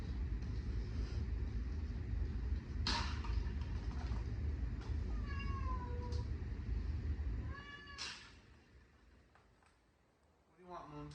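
A pet cat named Moon meows several times in a kitchen, short plaintive cries near the microphone over a low rumbling background, with people talking around it.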